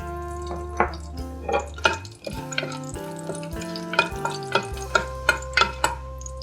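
Whole cinnamon, bay leaf, cloves, star anise and cardamom crackle in hot oil as a spoon clinks and scrapes the pan in a quick, uneven rhythm over a soft sizzle; no voices.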